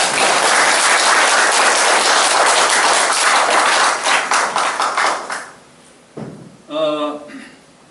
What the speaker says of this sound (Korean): 여기 박수 한번 크게 좀 쳐주세요